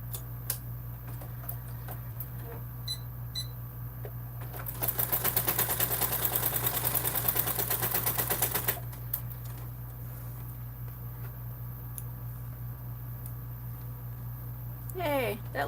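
A sewing machine top stitching along a vinyl bag edge, a fast even run of needle ticks lasting about four seconds, with quiet handling clicks and a steady hum before and after.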